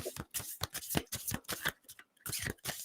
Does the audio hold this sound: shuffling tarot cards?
yes